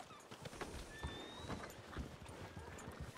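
Horses gallop with rapid, clattering hoofbeats and let out neighs and whinnies in the RedM video game, the hooves pounding steadily and fairly close throughout.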